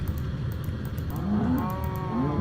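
A cow in a Minecraft-style farming game lets out a single drawn-out moo with a rising, wavering pitch, close and clear over a low background hum.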